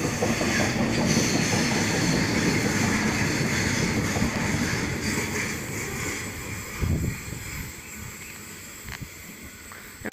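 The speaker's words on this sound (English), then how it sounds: "And arriving into platform number 2, we have a Port Kembla service." A Port Kembla service train pulls into platform 2 at Otford station, a loud steady rumble and hiss of rail noise with rolling clatter that eases off as it slows, close by, with no talking.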